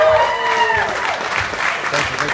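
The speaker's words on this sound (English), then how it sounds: "I know I just stopped clapping, but let's give another round of applause." Audience applause at a William Shatner Beat Night performance event, a steady wash of clapping from a crowd that fills the room, loud and continuous throughout.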